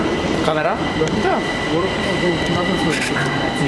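A Bucharest metro train runs with a steady rumble of wheels and carriage noise, some faint squeal, while a voice speaks quietly over it.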